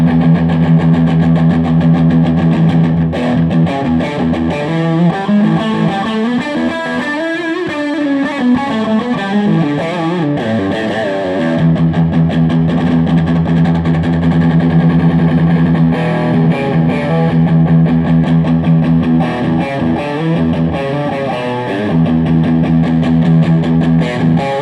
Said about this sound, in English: I will just do a little trill on the bass